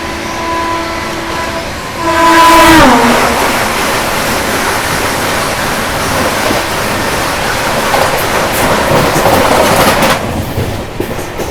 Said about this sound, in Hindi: अभी देखो सामने से आ रही है चंडीगढ़ अजमेर वंदे भारत एक्सप्रेस